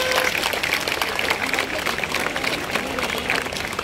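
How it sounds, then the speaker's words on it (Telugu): An audience at a Mother Mary shrine festival claps loudly together in steady sustained applause, with a voice and crowd murmur underneath. "మేరీ మాతకు అందరూ గట్టిగా చప్పట్లు కొట్టి కృతజ్ఞతలకు."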